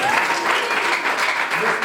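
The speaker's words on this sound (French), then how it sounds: "Très bien, applaudissez pour papa." Applause from wedding guests honoring the bride's father, a dense, steady wash of many hands clapping at close range for the full stretch, with no gaps.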